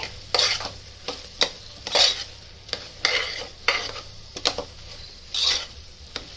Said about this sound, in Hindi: अभी अच्छे से इसको भुनेंगे।